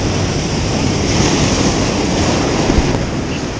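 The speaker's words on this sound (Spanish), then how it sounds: "Está un poco alto el mar," Steady roar of ocean surf washing onto Playa Las Gatas beach in Ixtapa Zihuatanejo, Mexico, at rising tide, a dense, constant rush of breaking waves with some wind noise.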